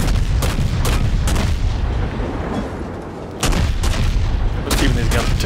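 Naval guns fire in a World of Warships battle involving a Tier 7 US Navy destroyer, Mahan: repeated heavy booming salvos at a steady rhythm, loud and close, with a brief lull midway.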